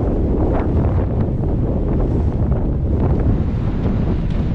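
Strong wind buffets the microphone while cycling on a road on Gotland, a constant dense roar with no talk.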